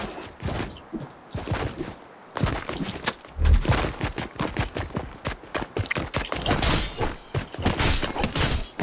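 Rapid bursts of gunfire in the video game Fortnite crackle near and loud, with dense volleys of shots broken by brief pauses and a few thumps between them.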